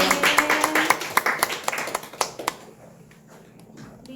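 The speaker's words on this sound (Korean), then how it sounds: "우리 주님께 영광의 박수를 드립니다" A church congregation at an Easter Sunday school service gives a short round of applause. Sharp, uneven handclaps come close together and then thin out and fade over a few seconds, with a faint voice underneath.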